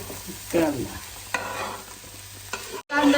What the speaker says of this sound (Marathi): सगळी वांगी रगडली गेली पाहिजे